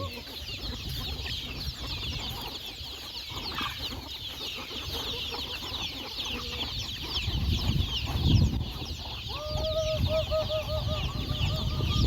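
Chickens clucking around feeding time in a rural yard, a busy overlapping chorus of clucks and chirps with a brief crow-like call near the end, moderately close.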